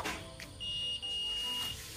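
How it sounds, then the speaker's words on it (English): A single sustained high-pitched electronic beep from a multimeter in continuity mode, testing diodes on a smart TV board, lasting about a second, clear over a quiet background with faint clicks before it. "with the continuity mode on the multimeter, here you can see the beep sound"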